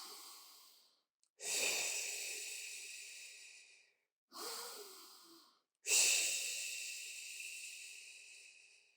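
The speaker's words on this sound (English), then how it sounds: "And breathe." Slow, audible breaths, both inhales and exhales, during a quiet arm hold in a beginner reformer Pilates class, close and soft with pauses between them and no talking.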